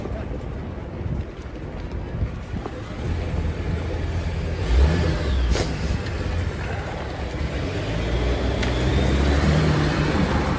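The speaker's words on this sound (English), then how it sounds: "And there's the police car, hot on the chase." A police car speeds along in a chase, its engine and road noise rising steadily under heavy wind buffeting from outdoors.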